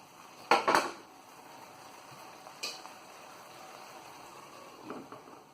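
A lid clatters onto a pot of bitter gourd curry on the stove, a sharp double metallic clink near the start followed by a couple of fainter taps, close and otherwise quiet.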